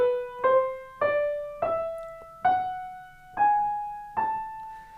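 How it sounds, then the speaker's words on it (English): A piano plays an ascending melodic minor scale, eight separate notes stepping upward at an even moderate pace, each struck clearly and left to ring before the next, with no voices present. "The melodic minor has a raised 6th and 7th and sounds like this."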